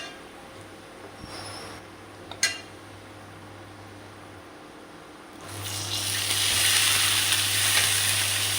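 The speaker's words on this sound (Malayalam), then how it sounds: "ഇനി നമുക്ക് അതിലേക്ക് കഴുകി വൃത്തിയാക്കി വെച്ചിരിക്കുന്ന വാഴയുടെ കുടപ്പൻ ഇട്ട് കൊടുക്കാം" Banana flower tossed into a hot pan of fried onion, garlic and curry leaves, first a faint crackle, a short clatter, then a loud steady sizzle swelling up for the last few seconds, no one talking.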